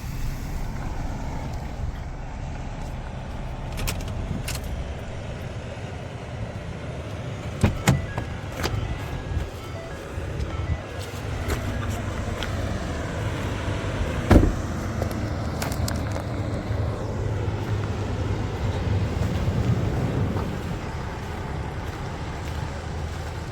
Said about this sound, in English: I'm just gonna pull the delivery truck out of the way for now.